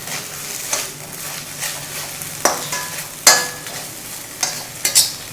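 Okra roasting slowly in oil in a pan, a soft continuous sizzle broken by several sharp scraping stirs of a spatula against the pan, with no talking.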